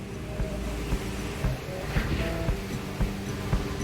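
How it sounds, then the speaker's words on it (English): Steady loud mechanical drone of a sailboat's running engine and watermaker with a rhythmic knocking pulse about twice per second, close and continuous. "It's really loud right now because we have an engine going and the Watermaker's going"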